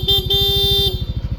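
A stock motorcycle horn on a Yamaha Aerox V1 honks in three quick beeps, the last held longer, over a close, steadily idling engine.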